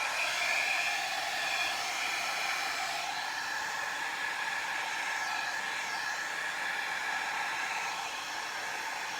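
A hair dryer blows steadily over a resin Dutch pour, a constant close airy roar with a slight shift in pitch partway through and no talking.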